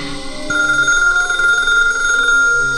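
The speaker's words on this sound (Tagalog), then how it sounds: "Sungbatan ti telepono!" A telephone bell rings steadily in a domestic drama scene, a bright continuous trill starting about half a second in and sustained loud and close to the end, with no talking over it.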